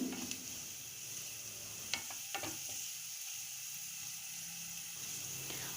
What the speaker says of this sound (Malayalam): ആ മസാലകളൊക്കെ നന്നായിട്ടൊന്ന് ഇളക്കി കൊടുക്കാം